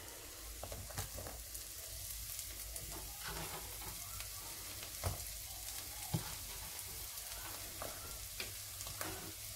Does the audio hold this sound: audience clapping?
no